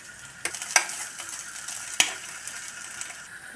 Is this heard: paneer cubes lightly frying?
yes